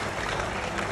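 Audience applause at a university graduation ceremony, a loud, dense burst of crowd clapping filling the hall, steady and continuous.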